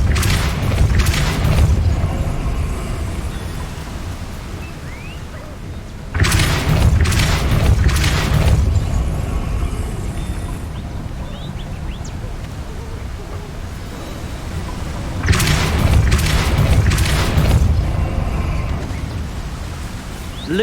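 Depulso spells are cast repeatedly in Hogwarts Legacy, each a heavy booming blast that swells and rumbles off, three in all spaced several seconds apart over a continuous noisy backdrop, with a voice speaking between them.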